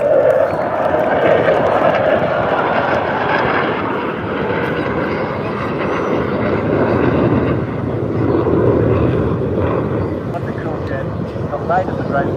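A Royal Australian Air Force F-35 fighter jet flies past over Mindil Beach, a loud sustained roar that rolls on steadily for several seconds with crowd noise and talking beneath it.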